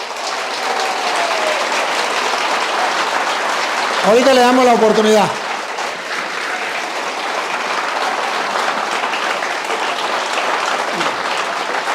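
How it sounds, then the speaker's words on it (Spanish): A church congregation applauds to welcome two visiting pastors, steady and sustained for the whole stretch, while a preacher speaks briefly over the clapping. "Un aplauso para ellos, bienvenidos."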